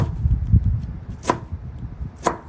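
A knife chops a chili pepper on a cutting board for a bean sprout dish, giving two crisp, sharp chops about a second apart over a low background rumble.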